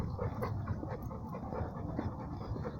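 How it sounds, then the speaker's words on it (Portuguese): A dog straining against a taut leash pants steadily and quickly, with close, breathy rhythmic huffs running continuously throughout. "Olha como o dog tá me puxando na guia."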